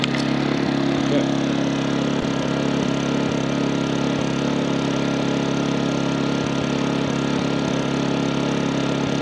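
A MaxPeedingRods 3200-watt inverter generator runs steadily at idle for the whole stretch, a constant droning hum with no talking over it.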